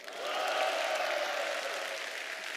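Sustained applause from a church audience during a lecture, a broad, even wash of many hands clapping that swells quickly and holds steady throughout.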